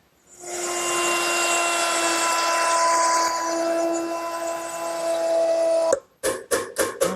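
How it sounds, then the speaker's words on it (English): Router fitted with a 1/4-inch veining bit cutting a groove in a wooden shelf clamped in a bench vise: a loud steady high whine for several seconds, then the motor cuts off and a few short bursts follow. "I'm going to route it out using a 1/4-inch veining bit set up in my router"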